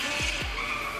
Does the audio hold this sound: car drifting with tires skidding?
yes